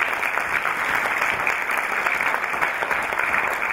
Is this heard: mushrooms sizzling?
no